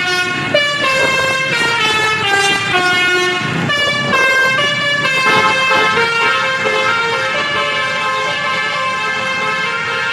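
A Sumber Alam bus sounds a loud multi-tone musical horn, a long sequence of melodic toots close by with no pause across the whole stretch.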